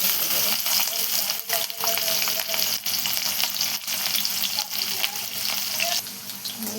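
Mustard seeds, cumin and chili sizzle in hot oil in a pan for a cabbage and dal dish, a dense, loud, continuous crackling fry heard close up with faint clinks of stirring.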